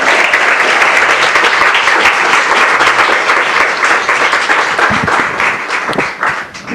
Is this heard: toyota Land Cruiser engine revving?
no